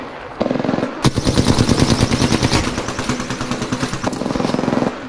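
Rapid automatic gunfire in a video game rattles in long bursts after a single sharp report, loud and close, a dense rhythmic stutter lasting several seconds.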